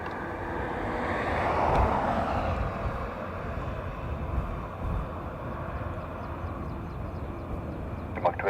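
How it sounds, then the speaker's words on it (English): An Airbus A330 takes off at Dublin Airport bound for San Francisco, a broad jet engine roar swelling to a peak early on and then holding as a steady, distant rumble. "A330 off to San Fran."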